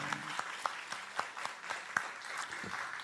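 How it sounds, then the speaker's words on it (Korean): A church congregation gives warm applause welcoming a small child at a worship service, a soft, distant, steady patter of clapping with a few sharper nearby claps. "여러분 뜨겁게 박수로 환영해 주시기 바랍니다"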